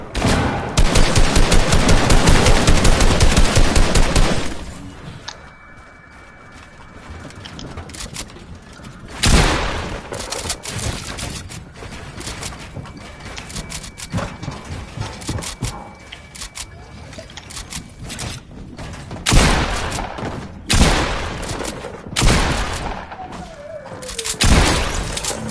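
Fortnite video game gunfire: a loud burst of rapid automatic shots opens, followed by scattered single shots, impacts and bursts at varying distances, with game sounds and occasional voices in between.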